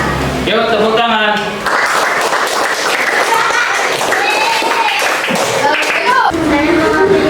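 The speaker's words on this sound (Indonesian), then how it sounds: "Yuk tepuk tangan" Classroom audience applause after a group presentation: continuous loud clapping from a room of students, mixed with children's chatter and shouting voices throughout.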